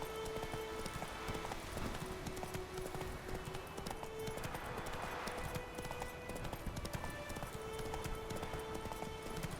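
Roach, the horse in The Witcher 3 video game, gallops in a steady, rapid clip-clop of hooves that runs unbroken for about ten seconds. A constant hiss like rain sits beneath the hoofbeats.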